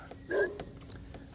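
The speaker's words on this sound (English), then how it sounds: "Puppy dog." A puppy dog gives a single short, high bark, near and fairly loud, with faint road and car-interior noise around it during a drive.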